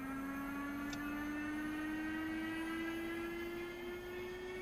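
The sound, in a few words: Mirage M2000C jet engine starting, video game (DCS)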